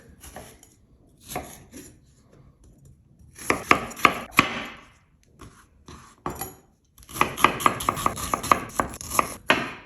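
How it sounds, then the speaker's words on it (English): A knife chops ginger rapidly on a cutting board in several bursts of quick, sharp knocks, with brief pauses between them and no talking. "I'm going to start by chopping the ginger"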